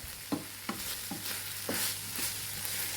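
Drumstick leaves, onion and garlic sauté in a pan for poriyal, with a steady soft sizzle broken by five or six sharp spatula scrapes and stirs at an even pace, close and moderately quiet, with no talking.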